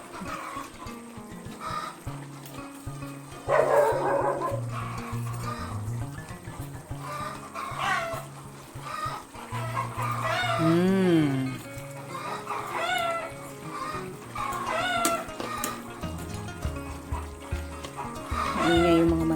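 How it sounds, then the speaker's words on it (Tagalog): Farmyard chickens cluck and squawk noisily after laying eggs, several birds calling in irregular bursts close by, mixed with other background household sounds. "Maingay yung mga manok. May naingitlog kasi."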